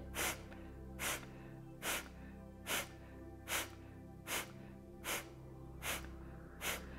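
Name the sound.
Kapalabhati yoga breathing with forceful exhales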